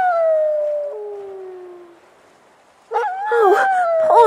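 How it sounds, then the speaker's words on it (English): A dog howling as an audiobook sound effect: a long, falling wail that fades out, then after a short silence a fresh burst of wavering, yelping howls, loud and close with no talk. "There he goes, howling again!"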